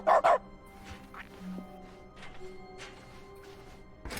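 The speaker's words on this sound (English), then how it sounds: "Ah, but the dogs work." A dog in The Stanley Parable: Ultra Deluxe lets out two loud, close barks right at the start, followed by softer scattered yips over quiet background game sound and a final bark at the end.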